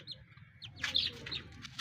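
About eight caged chicks, one to two months old and stressed, cheep in quick high chirps that overlap in short bursts above a soft low rumble of background noise, fairly close and with no talk.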